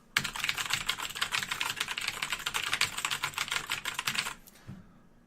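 Someone types rapidly on a clicky mechanical keyboard, a dense and steady run of sharp keystrokes at moderate volume that stops abruptly near the end.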